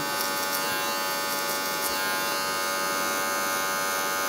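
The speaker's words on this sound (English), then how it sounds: "So I'm actually going to turn the clipper." An electric hair clipper cuts hair during a skin fade haircut, giving a steady, close, unbroken buzzing hum with no talking.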